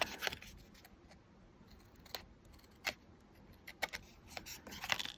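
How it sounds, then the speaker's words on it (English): Scissors cut a paper strip in a craft session, giving a few sharp separate snips scattered across a quiet background, close and crisp. "I'm going to cut this off"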